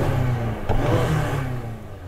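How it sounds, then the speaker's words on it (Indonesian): A 2.5-litre petrol engine in a Mazda CX-80 kicks in under full-throttle acceleration on an out-of-town drive, a low engine drone rising slightly in pitch over two seconds with no talk. "Karena kalau kita rata lantai, mesin bensinnya bakal nyala."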